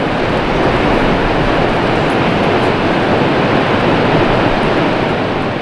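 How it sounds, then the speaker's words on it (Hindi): Seven Sisters Falls, a waterfall formed by seven streams in Cherrapunji, Meghalaya, gives a loud, steady, unbroken roar of falling water with no voices. "इनमें से एक है ये सेवन सिस्टर्स फॉल।"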